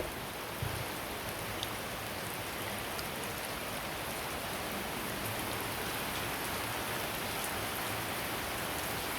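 Rain falls steadily around a house in Thailand, a dense, even hiss that never lets up, with no voices heard.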